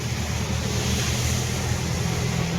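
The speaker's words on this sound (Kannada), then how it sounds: "ಫುಲ್ಲು ಮಳೆ ಬರ್ತೈತಿ" Heavy rain pours down on a road near a gate, heard from inside a vehicle as a dense, steady roaring wash of water that stays loud and unbroken throughout, with no voices.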